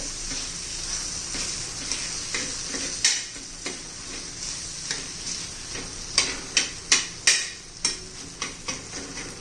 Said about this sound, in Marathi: चांगले असे दाबून दाबून मॅश करून घ्यायचे